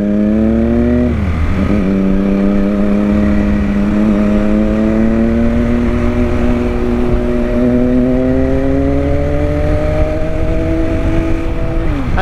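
A loud Triumph Street Triple inline-three motorcycle engine held at a steady drone, briefly dipping then climbing gradually in pitch as it pulls, heard up close while riding.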